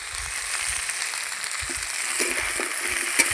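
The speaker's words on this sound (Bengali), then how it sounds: "সব কিছু ভালো করে ভেজে নেবো" Spices frying in a pan with taro and potatoes, a steady hiss of oil broken by scrapes and clicks of stirring, close by with no talking.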